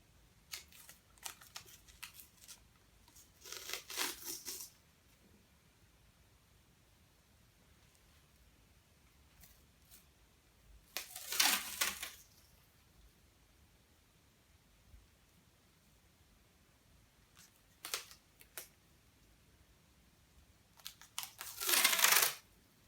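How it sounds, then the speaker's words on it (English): Adhesive tape being wrapped around a golf pitching wedge shaft ahead of grip installation, heard as four separate bursts of tearing and pulling, each lasting a second or two, with quiet stretches in between. "Alright, so I've taped my pitching wedge"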